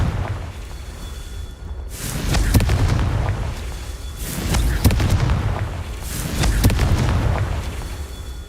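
Confringo blasting spells exploding in Hogwarts Legacy combat: three loud, booming blasts about two seconds apart, each with a crackling burst and a rumbling decay.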